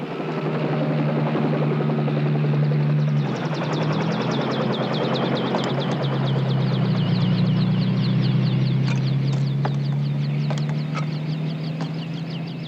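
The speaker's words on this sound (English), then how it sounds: "Under difficult weather conditions, the helicopter flown by Bob McKeegan delivers Captain Cousteau to a barren hill." A helicopter flies in difficult weather over a barren, frozen hill, its rotor giving a loud, steady thudding drone that shifts pitch partway through and keeps going to the end.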